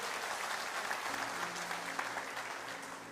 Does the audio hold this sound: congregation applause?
yes